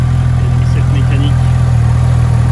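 A Porsche GT3 engine idles close and loud, holding a steady, even low rumble throughout with no revving and no voices.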